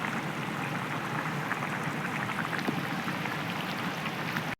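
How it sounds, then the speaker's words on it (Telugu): Rain pouring steadily outdoors in a village, a dense, even hiss of falling water close by that continues without a break until an abrupt cut at the end. "బయట వర్షం అండి, 2 days నుంచి అలా కంటిన్యూ పడుతూనే ఉంది."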